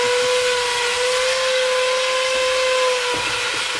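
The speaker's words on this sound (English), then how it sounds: "And the drilling when John leans on it" A drill bores through a vehicle's body during a Smart Flow installation, producing a loud, steady, close whine that holds one pitch for several seconds and dips briefly near the end. No voices are heard.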